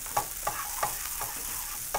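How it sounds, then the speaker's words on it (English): Rice frying in a pan over low heat with cumin seeds and paprika powder, stirred with a utensil: a steady soft sizzle under a few sharp scraping strokes spaced about every third of a second, no voices. "allow for a nice, beautiful frying of your rice"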